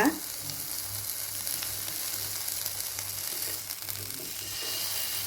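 Pineapple pieces fry in a pan with a steady close sizzle and soft crackle. A brief louder burst comes at the start, then an even hiss runs throughout with no talking.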